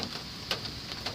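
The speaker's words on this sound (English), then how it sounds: "Yep, it's still raining." Rain falls outdoors as a faint, steady hiss with a few soft drip-like ticks scattered through it, and no one speaks.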